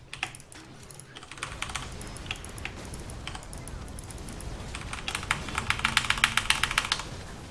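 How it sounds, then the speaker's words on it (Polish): Rapid keyboard typing and mouse clicking during a game of League of Legends, dense irregular clatter that quickens and grows louder toward the end, close and dry with no talk over it. "Czy wy to słyszycie, co tutaj jest klikane?"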